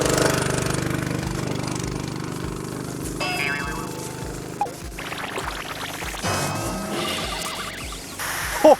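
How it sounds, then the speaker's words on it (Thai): The engine of a SERV-50Z high-pressure pump runs and is revved, a loud steady mechanical drone with rhythmic pulsing, along with clanks and rattles of nearby equipment. "เราก็เร่งเครื่องหน่อยหนึ่งนะครับ"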